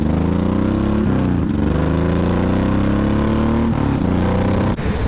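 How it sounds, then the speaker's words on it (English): A Honda VTX 1800 V-twin motorcycle rumbles underway, a deep, loud throbbing engine note rising steadily through a couple of gear changes, close and continuous with wind noise. "The V-twin Rumble, there's nothing like it."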